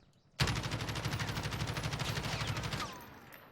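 A Kilo assault rifle in Call of Duty Warzone fires one sustained full-auto burst of rapid, evenly spaced shots for about two and a half seconds, loud and close, then cuts off into a brief fading tail.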